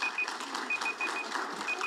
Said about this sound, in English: Can you control your beep?